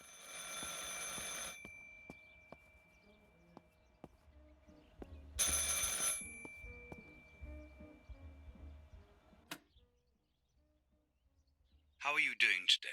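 An old bell telephone in Martha Is Dead rings in short bursts with quiet gaps between them. Faint indoor sounds fill the pauses, and a voice briefly breaks in near the end.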